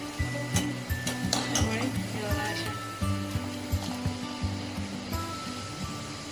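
Chillies frying in well-heated oil over a low flame give a soft, continuous sizzle, with clinks of a utensil against the pan and a voice talking over the cooking throughout.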